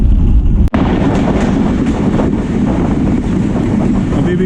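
The Mehr Express AC standard passenger train runs along a branch line in Pakistan between Rawalpindi and Multan, heard from an open door as a loud, continuous rumble of wheels and rushing wind with one brief dropout.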